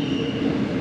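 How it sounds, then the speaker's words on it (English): A passing train in Spain gives a steady rumble with a faint high squeal, close and continuous through the short moment. "catching a train"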